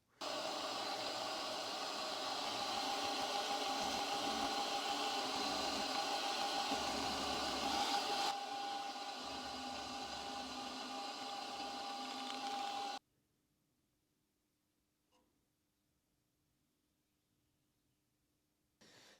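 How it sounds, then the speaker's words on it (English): Milling machine side milling a 6 mm metal rod down to 3 mm for a small horizontal steam engine, giving a loud, steady whirring cut with a thin whine for about thirteen seconds before stopping abruptly into near silence. "I just need to side mill half of the 6 millimeter diameter down to 3 millimeters directly in the middle"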